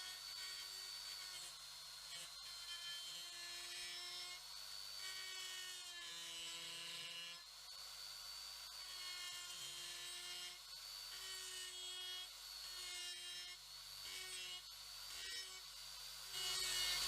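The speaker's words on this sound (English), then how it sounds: "I'm doing this with a die grinder" A die grinder fettles a metal part for a Clarkson tool and cutter grinder, a steady high whine with a broad rasping hiss that runs continuously at close range, the pitch dipping and recovering slightly as the tool bears on the work.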